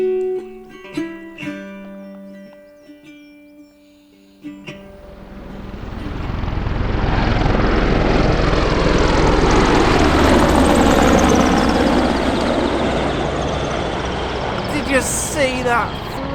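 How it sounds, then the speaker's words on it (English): Three military helicopters approach and pass over a sandy campsite in Scotland, a deep rotor roar swelling loudly then fading, after a few quiet moments of ambient sounds. "3 military helicopters flying right over our camp"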